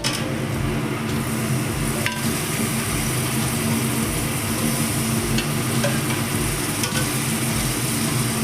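Chicken cooked with masala keeps frying at a steady loud sizzle in the pan, with faint stirring scrapes and clicks throughout and no voices, as chicken stock goes in.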